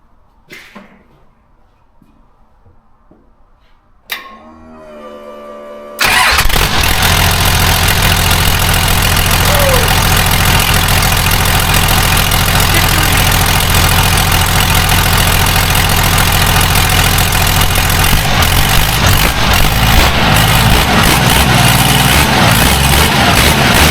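A Cummins diesel with a VE injection pump cranks after a few quiet clicks, catches, and settles into a loud, steady, rattling idle that runs continuously to the end.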